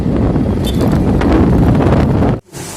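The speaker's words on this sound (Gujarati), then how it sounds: "પવન છે ને જોરદાર છે" Strong wind buffets the microphone in a loud, continuous roar, cutting out abruptly near the end before a brief gust returns.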